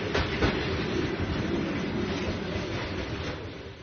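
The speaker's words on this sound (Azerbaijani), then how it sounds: "Görüntüdəki qatar təsərrüfat qatarıdır." A service train runs along a railway line under construction, a steady broadband rumble and rolling clatter of wheels on rails, fairly close and continuous before easing slightly at the end.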